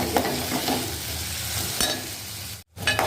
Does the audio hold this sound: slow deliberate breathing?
no